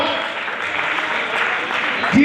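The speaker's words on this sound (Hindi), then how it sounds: "एक बार मैं चाहूंगा खड़े होकर तालियां जोरदार करके होनी चाहिए।" Audience applause at a pre-launch business event in Ghaziabad, a dense steady wash of clapping from a crowd lasting a couple of seconds, with a voice rising near the end.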